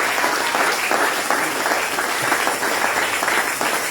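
A congregation applauds for the Lord, producing a dense, continuous roar of many clapping hands that stays loud and even from start to finish.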